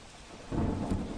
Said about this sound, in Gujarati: વલસાડમાં વાપીમાં વીજળીના કડાકા ભડાકા સાથે વરસાદ થયો